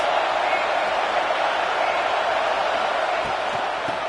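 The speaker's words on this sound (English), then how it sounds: "This crowd trying to make life miserable for this offense." Stadium crowd noise in the College Football 26 video game during a Penn State game: a steady, dense, roaring wall of crowd sound that holds at an even loudness throughout.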